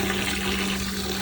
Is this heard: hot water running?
yes